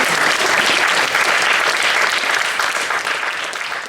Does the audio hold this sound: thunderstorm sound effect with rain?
no